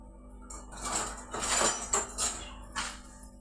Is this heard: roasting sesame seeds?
yes